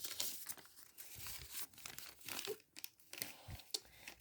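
Close, irregular crinkling and crackling of a paper packet being handled, with quick rustles and short tearing bursts, no talking.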